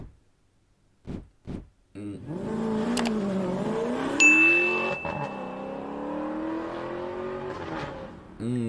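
An Alfa Romeo 8C engine blips a few times, then revs up and holds a loud, rising and falling howl with a sharp whine, heard close and alone.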